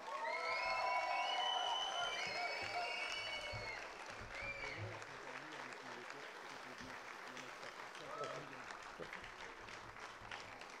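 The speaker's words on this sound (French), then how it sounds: "Je veux qu'on vous donne une très forte main d'applaudissement maintenant!" Audience at the opening ceremony of Raid Témiscamingue 2023 applauding volunteers, steady sustained clapping with cheers and whoops, loudest in the first few seconds and then continuing at a lower, even level.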